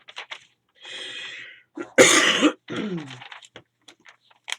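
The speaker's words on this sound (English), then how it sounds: "I have a coughing attack like that" A burst of harsh, raspy coughs comes in quick clusters, with a loud hacking peak in the middle, close to the microphone and without talk.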